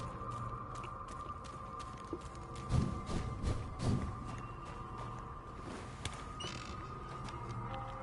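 A door creaking open in the video game Vampyre, a faint, drawn-out creak with low groaning scrapes over a steady background hum.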